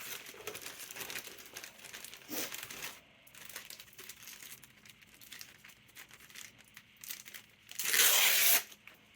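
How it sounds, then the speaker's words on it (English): An adhesive strip is peeled off cardboard shipping packaging for a PlayStation 2 bundle, heard as one loud, close ripping tear near the end, after quieter crinkling and handling noises. "Pull off the strip."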